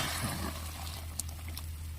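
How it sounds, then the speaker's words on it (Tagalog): Hot water poured from a thermos into a pot of sopas soup, a soft steady watery rush over a low background hum, with no talking. "Mainit na tubig na galing sa termo."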